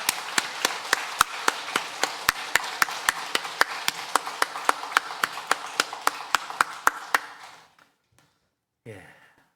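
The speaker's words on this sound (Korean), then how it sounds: "힘찬 박수로 영광 돌리겠습니다" A church congregation at a Sunday service claps in unison, a steady beat of sharp, evenly spaced claps over a low murmur that stops abruptly, followed by a brief voice.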